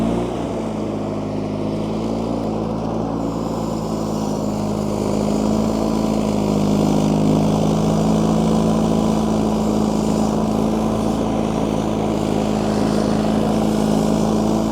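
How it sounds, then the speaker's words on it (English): A John Deere 316 garden tractor runs its snow blower in a steady, loud engine drone with a deep low hum and a constant blower whine, continuous throughout with no talking. "might want to turn on the blower right here"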